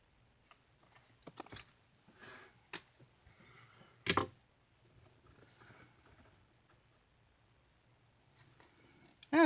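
Scissors snip through poinsettia ribbon during a craft project: a few soft, scattered cuts and paper-like rustles, with one sharp, louder snip near the middle and a firm snap right at the end.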